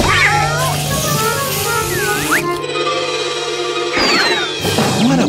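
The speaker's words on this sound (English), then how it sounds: "That cat is like a watchdog." A cartoon cat lets out several close, loud meows and yowls against animated background sounds, with characters talking around it.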